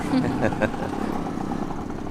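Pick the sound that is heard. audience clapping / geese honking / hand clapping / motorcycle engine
motorcycle engine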